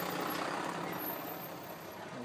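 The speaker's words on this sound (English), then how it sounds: "Big ass truck." A big truck passes nearby on the road, a loud, broad engine-and-tyre roar that stays steady throughout.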